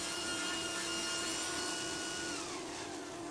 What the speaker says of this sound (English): I made a simple sled to help me cut the outside angle on the front leg